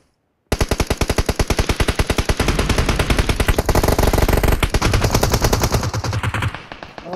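Automatic weapon fire in the video game PUBG on the Vikendi map, a loud, close, continuous rapid burst of shots lasting several seconds before cutting off, with no talking over it.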